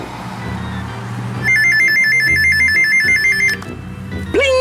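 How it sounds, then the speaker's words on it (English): A Jensen JEP-725 radio emits a telephone-like ringing tone, a rapid warbling electronic trill lasting about two seconds over background sound, followed by a brief rising electronic chirp. "It does sound like a phone ringing."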